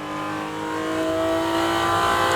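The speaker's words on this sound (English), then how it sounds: "Beautiful little car, this Porsche GT4." A Porsche GT4 on a racetrack accelerates with a loud, steady engine drone that climbs slowly in pitch and grows a little louder, heard close up with no talking.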